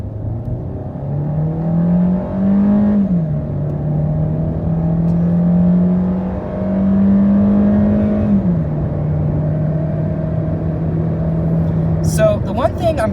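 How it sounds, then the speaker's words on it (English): Engine of a 2015 Hyundai Elantra pulling hard through a 0 to 60 acceleration run, a steady rising drone with a gear-shift dip partway through, loud and close, ending with a brief higher whistle. "I'll show you guys this 0 to 60 on this car"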